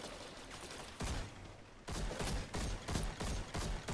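Shotgun blasts ring out in a hunting video game, a quiet spell followed by a rapid series of sharp, evenly spaced shots.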